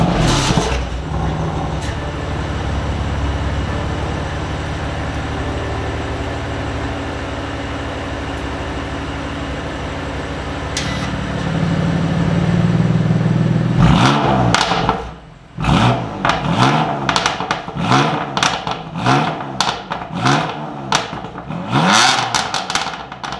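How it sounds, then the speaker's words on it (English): A 2020 BMW M2 Competition's engine idles, then blips through a rapid series of sharp exhaust revs, each bark rising and falling in quick succession, loud and close, with no talking. "I'm going to give you a proper exhaust rev."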